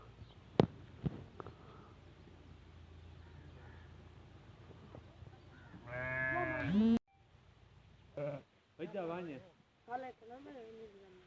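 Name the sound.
herd of goats and sheep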